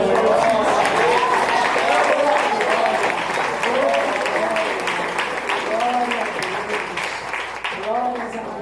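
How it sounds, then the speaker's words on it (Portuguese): A church congregation applauds during a women's union 20th anniversary service, steady clapping with voices speaking or calling out over it throughout. "Você pode aplaudir o Senhor pela vida das servas"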